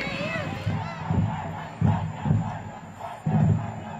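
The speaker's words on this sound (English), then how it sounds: "The crowd cheering for the team that got a chance" Crowd at a Southview High School Friday night football game cheering for its team, a loud swelling roar with repeated surges of shouting and applause-like bursts.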